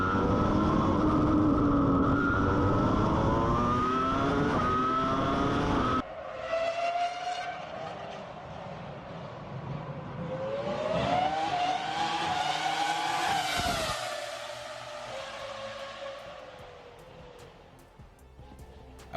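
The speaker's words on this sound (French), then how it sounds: "faire rugir la Ferrari F2003 à moteur V10" A Ferrari F2003 Formula 1 car screams with its V10 engine, first a loud sustained roar, then a sharp high rev climbing and falling as it passes close and fades away.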